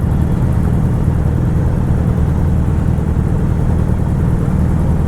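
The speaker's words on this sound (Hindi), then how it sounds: "बस गाड़ी ऐसे खड़ी में इतना आवाज़ आ रहा है।" An old but powerful motorcycle engine running while parked before a group ride to Khopoli, a loud, deep, continuous rumble held steady and close throughout, with no voices over it.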